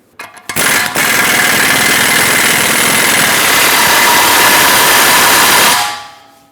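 A ball joint press seats a ball joint on a Ford E-350 with a loud, continuous mechanical roar and vibration lasting about five seconds, then cutting off, after a few brief clicks at the start.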